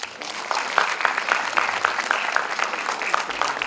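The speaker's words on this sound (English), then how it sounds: "A big round of applause, please." An audience at a Constitution Day ceremony claps as a student convener comes on stage, moderately loud, fairly sparse applause with individual claps audible throughout.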